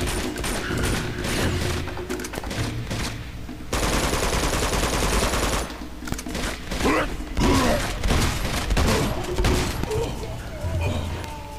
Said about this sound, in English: Oh shit. It's a turret.